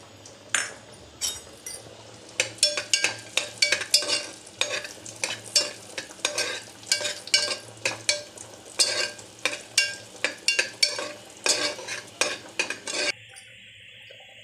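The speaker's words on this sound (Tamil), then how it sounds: "முதல்ல முந்திரி திராட்சையை வறுத்துன்றேன். அதே நெய்லியே அரிசியை வறுத்துக்கலாம்" Cashews and raisins frying in ghee for caramel payasam, heard as rapid repeated spatula clinks and scrapes against the pan over a light sizzle, close and busy, ending in quieter frying.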